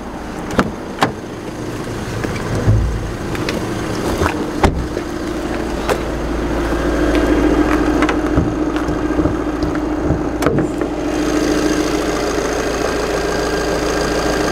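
A VW Tiguan engine idles under its open bonnet, a steady low hum running throughout with a few sharp knocks and clicks, close by and fairly loud, without any talking.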